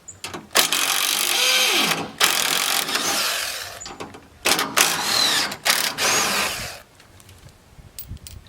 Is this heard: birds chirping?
no